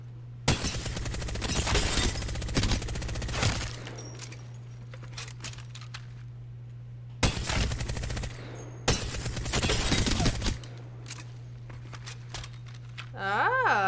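Bursts of automatic gunfire from an Apex Legends match, loud repeated volleys in several clusters with pauses between, over a steady low game hum, with a voice talking at points.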